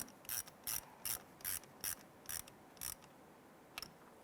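A hand ratchet clicks in about nine quick separate bursts while snugging a ground terminal bolt on a 2007-2012 Nissan Versa, crisp and close against a quiet background.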